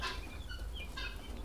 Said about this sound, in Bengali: এই যে তিথি মুরগির বাচ্চা,